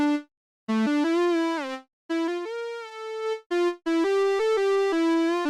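Synthesized UK hardcore lead run through a low-pass filter with drive, a bright buzzy monophonic riff of short stepped and gliding notes with brief silent gaps, played alone.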